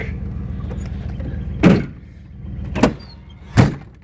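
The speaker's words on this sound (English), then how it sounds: "The doors are kind of stiff in the hinges" Doors on a 1993 G25 van with stiff hinges thunk shut three times at close range, each a sharp knock over a steady low engine idle.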